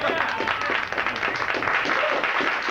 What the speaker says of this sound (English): can you stop clapping?